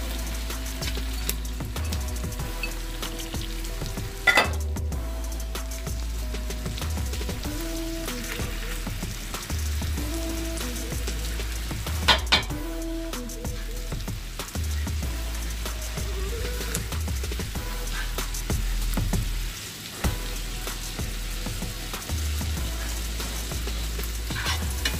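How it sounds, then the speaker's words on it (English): Onions and green onions sautéing in butter and olive oil for a seafood gravy, a steady close sizzle lasting the whole stretch with occasional louder clinks and stirring bursts. "We have our onions and green onions sauteing in our butter and olive oil."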